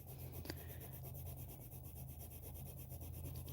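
Star Joy colored pencil rubbed quickly left and right across paper in a smoothing top layer, a steady close scratchy rasp that runs without pause over a low background hum.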